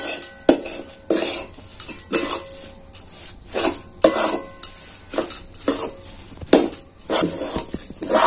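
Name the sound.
stirring ghee into hot jaggery and puffed rice mixture in a pan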